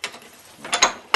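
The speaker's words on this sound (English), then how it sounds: "Now we're going to take the last of the bolts out." Last bolts coming off the rear sprocket of a BMW F650 motorcycle, giving a few short metallic ratcheting clicks and taps in bursts, close and moderately loud with no talking.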